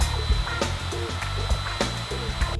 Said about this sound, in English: I switched out the 1/4 inch radius roundover bit for an 1/8 inch radius roundover bit, and now I'll just give the top of the table some good loving